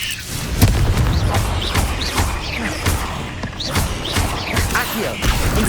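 Incendio fire spell cast in the game Hogwarts Legacy inside a cave, giving repeated booming, crackling bursts of flame amid combat noise and a spoken voice.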